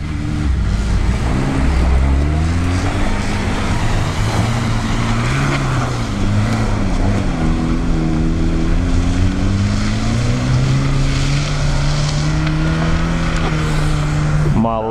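A Renault Duster 1.6 engine revs hard while climbing a hill, its pitch rising and falling in a steady, loud drone for the whole stretch, with people talking over it.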